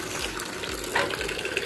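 Water pumped by a motor gushing steadily from a tap, a continuous close, splashing rush with no talk.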